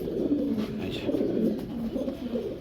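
Russian Angel fancy pigeons, a pair of them, coo softly and continuously at close range, a low murmuring warble with no talk over it.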